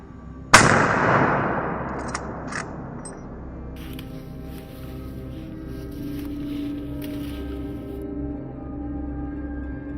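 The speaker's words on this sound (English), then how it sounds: "Gunshots rang through the woods" A single loud gunshot cracks out in the woods during a wild boar hunt, its boom echoing and decaying over several seconds into a quiet, low outdoor background.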